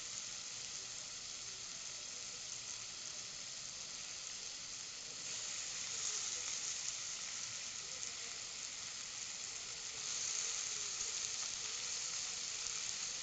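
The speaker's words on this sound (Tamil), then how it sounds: "கட் பண்ணி வச்ச கத்திரிக்காயை போடுறோம்" Cut eggplant sizzling in a pan after tomatoes, a soft, steady hiss of frying that swells slightly a couple of times, fairly faint and continuous with no talk over it.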